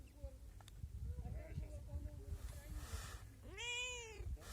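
A cat meows near the ruins of the ancient city of Perge near Antalya, one drawn-out rising and falling call near the end, while a person talks over steady outdoor background noise.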